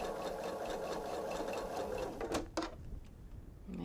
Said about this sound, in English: Sew through the stem.